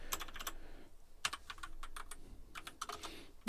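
Keys clatter on a computer keyboard as PHP code is typed, quick irregular bursts of clicks with short pauses between, close and fairly quiet, no voices.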